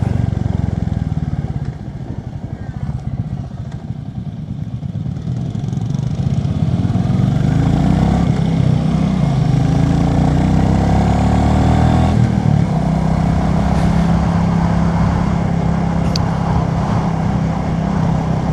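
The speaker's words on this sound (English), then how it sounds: "Such a lovely engine note." A Royal Enfield Classic 350 on a demo-day test ride, its single-cylinder engine thumping steadily under road and wind noise, rising as the bike accelerates and holding a loud, close drone.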